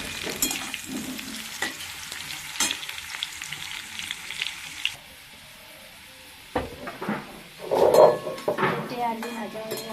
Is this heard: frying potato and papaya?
yes